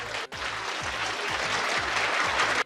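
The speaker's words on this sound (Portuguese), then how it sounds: "A galera até aplaudiu o BAP aí." A crowd claps steadily and loudly throughout, dense applause with brief dips at the start and end, no talk over it.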